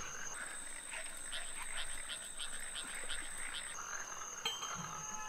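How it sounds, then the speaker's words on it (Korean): Frog croaking in a rhythmic series of short chirping calls over a faint steady electronic tone, fairly quiet and alone without talk. "개구리!"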